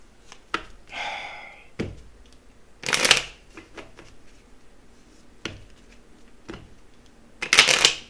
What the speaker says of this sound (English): Let's get a couple of initial cards out here.